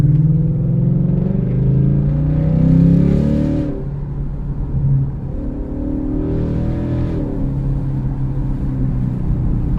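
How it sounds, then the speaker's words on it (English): A car with a cold air intake revving, its exhaust note a deep throaty rumble that swells and settles in two long rises over about ten seconds, close and loud with no talk. "Oh yeah, that exhaust note, it sounds so good right now"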